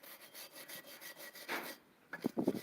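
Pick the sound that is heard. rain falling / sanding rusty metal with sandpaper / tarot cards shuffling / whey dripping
sanding rusty metal with sandpaper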